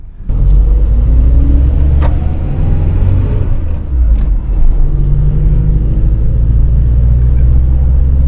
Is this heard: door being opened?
no